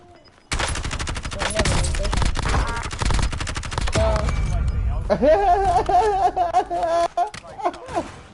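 Video-game gunfire in Call of Duty Warzone, a sustained loud burst of rapid shots followed by scattered cracks, while excited voices talk and shout over the later shots.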